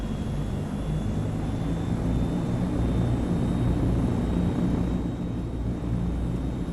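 Transall C-160 twin turboprop engines in the MSFS 2024 flight simulator, a steady, loud, dense engine roar with a faint high whine running unbroken throughout.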